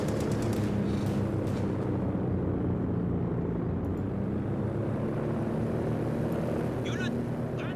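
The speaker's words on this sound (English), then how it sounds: "We do have reconnaissance overflight being deployed." A reconnaissance plane drones overhead in Company of Heroes 2, a steady broad engine roar sustained throughout, with faint distant gunfire and battle noise beneath.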